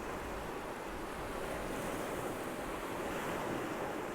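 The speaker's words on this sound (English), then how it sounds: "So the tide's got some movement in it, which can be nice." Ocean tide waves wash around rocks on a shoreline, a steady faint hiss of surf mixed with wind noise and no voices.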